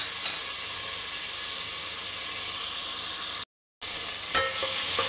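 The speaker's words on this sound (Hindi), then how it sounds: "पेस्ट को 3 से 4 मिनट इस तरीके से भूनने के बाद" Garlic ginger paste fries in a pan for masala bhindi, giving a steady, close sizzle and hiss with light stirring scrapes and a brief break in the sound partway through.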